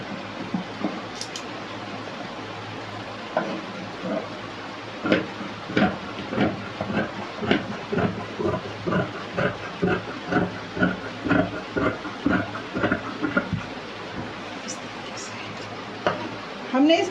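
Scissors cut through suit fabric on a tailoring table in a steady run of crisp snips, close and moderately loud, while a voice talks at times.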